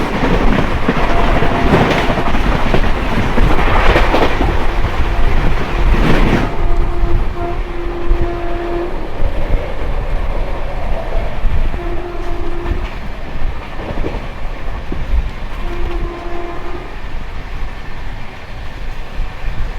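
Akal Takht Express running at about 130 km/h and meeting the Raxaul–Howrah Weekly, loud continuous rail roar and clatter with a burst of passing rush early on, then repeated long horn blasts over the rumble.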